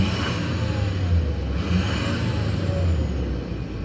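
An old, quiet-running pickup truck engine revs steadily and loudly up close, a deep rumbling drone with rising and falling throttle, no voices.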